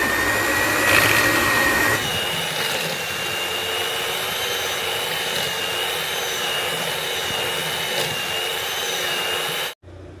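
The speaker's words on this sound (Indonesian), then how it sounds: "ini dikocok ya, saya menggunakan mixer. Ini dikocok sampai tercampur rata." An electric hand mixer whirs steadily as it beats eggs for a soft cake batter, a loud continuous motor drone lasting about ten seconds before it cuts off abruptly near the end.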